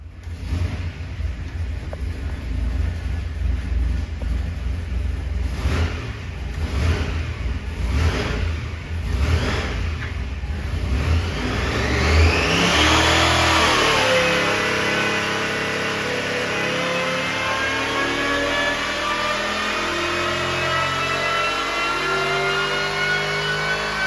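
A supercharged 6-71 blown 440 engine revs hard on a dyno, climbing through a long rising pull with a rough, loud roar, then settling to a steady high-pitched whine as the run holds.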